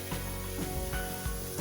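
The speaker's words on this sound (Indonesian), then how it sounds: "langsung dimasukin sekali masuk ke dalam minyak yang udah panas ya" Potatoes drop into hot cooking oil and fry with a steady bright sizzle and crackle, close and continuous throughout.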